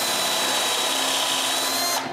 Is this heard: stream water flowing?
no